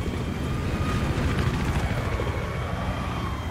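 A Little Bird helicopter in the Battlefield 3 video game, its rotor and engine giving a steady, thick mechanical drone that holds at an even, fairly loud level throughout, with no talk over it.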